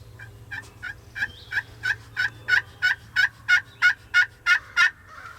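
A wild turkey gobbles repeatedly in response to calls, a rapid string of about fourteen rising, throaty bursts at a steady pace. It is moderately close, over a low background hum, with no talking.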